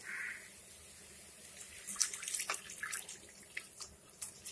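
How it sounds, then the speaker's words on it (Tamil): Water is poured into a pan of sautéed lentil vadas and onions for vada curry, a soft, uneven splashing trickle heard up close at low volume with no talk. "இப்போது நம்ம வாட்டர் ஆட் பண்ணிக்கலாம்."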